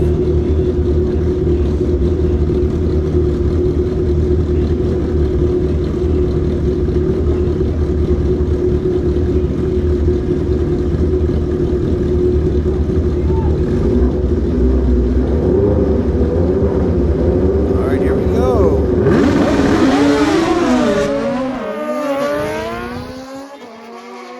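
Drag racing motorcycles roar off the line at Maui Raceway Park, a loud sustained engine howl building and shifting pitch down the strip before fading away into the distance near the end.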